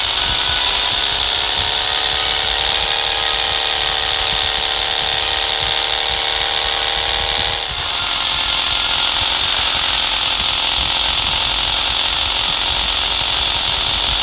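Vehicle engine in the PUBG Mobile video game droning loud and steady under a speed boost, a sustained buzzy whine that drops slightly in pitch partway through, then carries on evenly.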